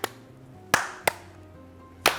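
Four sharp hand claps ring out close and loud in an irregular rhythm: one at the start, two fairly near together in the middle, and one near the end, each with a brief echo and no talking.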